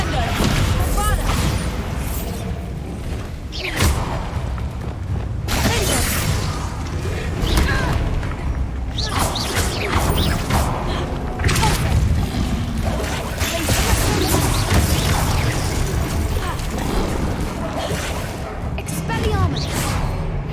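Hogwarts Legacy combat with spells cast in rapid succession: whooshes, cracks and booming blasts over dense game sound, with a voice repeatedly calling out incantations throughout.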